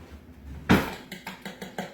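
Beaten eggs with garlic powder and salt are mixed in a bowl: one solid clunk, then a run of light, quick rhythmic taps and scrapes, close and quiet.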